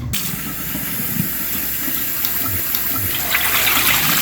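Water is poured and dumped out of a container after cleaning bluegill fish, a steady close splashing rush that swells toward the end.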